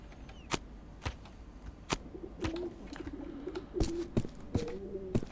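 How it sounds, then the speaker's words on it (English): Pigeons cooing in the video game Postal 4: soft, low rolling coos repeating in short phrases, interspersed with sharp clicking taps and light creaks against a quiet background. "Watch out! Angry avians on the loose!"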